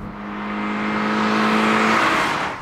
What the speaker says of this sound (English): I've been very concerned on the freeway about the level of noise this car produces.